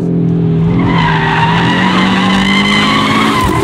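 An Audi RS3 8Y's tires squeal loudly and steadily under hard ABS braking on a track, the pitch wavering as the brakes pulse, with the engine droning throughout.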